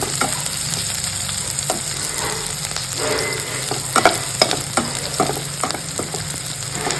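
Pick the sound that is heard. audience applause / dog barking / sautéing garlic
sautéing garlic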